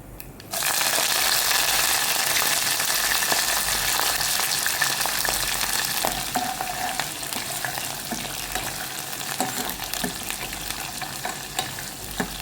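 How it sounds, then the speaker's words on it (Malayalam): Shallots, curry leaves and dried red chillies hit hot oil for sambar, a loud sudden sizzle that bursts in and then hisses continuously, easing slightly as it goes, with occasional scraping stirs and no talking. "ഇനി ഇതിലേക്ക് കൊച്ചുള്ളി, അതുപോലെ തന്നെ കറിവേപ്പില, അതുപോലെ തന്നെ ഉണക്കമുളക് ഇതെല്ലാം കൂടെ ഇട്ട് കൊടുക്കുകയാണ്"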